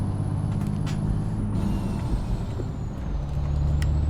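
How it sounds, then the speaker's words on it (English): A heavy semi truck's Jake engine brake in American Truck Simulator, hauling ice cream on the road from Denver, Colorado, to Dodge City, Kansas: a steady, loud low-pitched rumble and drone that continues without a break, with no talking. "Oh, my Jake's on. That's what that sound is"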